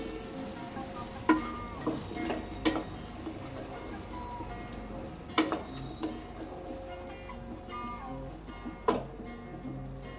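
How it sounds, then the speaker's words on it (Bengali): Marinated pumpkin sautéing in a pan: a soft, continuous sizzle with occasional spatula scrapes and clinks at intervals. "ম্যারিনেট করা কুমড়োটা দিয়ে দিচ্ছি। খুব ভালোভাবে কষিয়ে নেব কুমড়োটি।"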